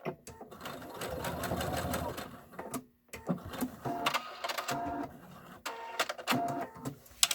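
Sewing machine stitching a zipper bag, a steady close mechanical whir that breaks off, then resumes in shorter choppy runs as it backstitches, with soft clicks between.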